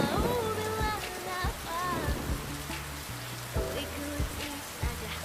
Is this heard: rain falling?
yes